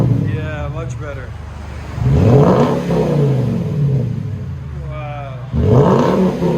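A 2009 Jaguar XK with a 4.2L V8 and straight-piped dual exhaust is revved twice from idle, loud and close, each rev rising and then falling away, with people talking over the idle between revs.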